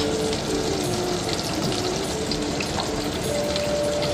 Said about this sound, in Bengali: এরপরে পটলটা ভেজে নেব।